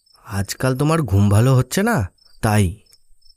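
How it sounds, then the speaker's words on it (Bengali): Crickets chirping at night in a Bengali ghost story, a faint, steady high-pitched trill running beneath a voice speaking over it. "শুধু ঝিঝি পোকার ডাক।"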